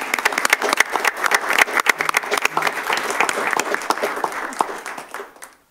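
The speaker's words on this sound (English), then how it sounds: "could I ask the audience for a round of applause" An audience at a city awards ceremony gives a round of applause for the winners, a brisk burst of many hands clapping close by that swells, holds, then tapers off and stops near the end.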